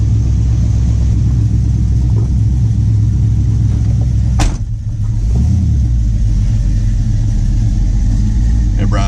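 A hot rod Squarebody C10 pickup truck, an NSRA show winner, rumbles steadily with its engine running close by. A brief sharp burst comes midway, then the deep low idle carries on without pause.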